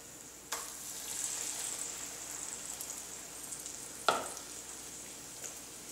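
Soaked, soggy bread frying in a pan like a pancake, giving a steady broadband sizzle throughout with a couple of sharp crackling pops, close and moderately loud, no voices.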